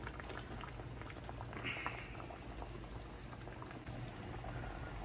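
Rohu fish kalia gravy with ground peanut and poppy seed paste bubbles at a steady boil in the pot, a continuous soft burbling and popping that holds close and even throughout with no talk.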